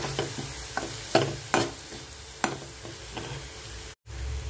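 Okra coated in cumin powder, turmeric, salt and garam masala stir-fries in oil, a steady sizzle broken by several sharp spatula scrapes and knocks, with a brief dropout near the end.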